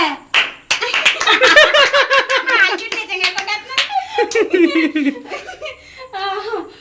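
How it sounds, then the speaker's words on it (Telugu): A small group claps hands at home amid laughter and children's chatter, a quick irregular patter of claps that is loud and close, with voices talking and giggling over it. "క్లాప్స్ కొట్టండి."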